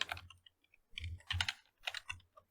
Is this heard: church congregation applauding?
no